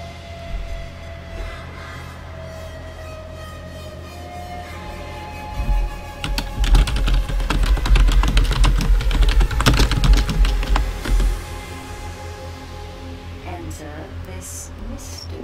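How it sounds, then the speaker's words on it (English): Rapid clatter of fingers typing on a computer keyboard, steady and close, growing busier and louder in the middle stretch, with a voice speaking over parts of it. "See, Leroy is typing to me now."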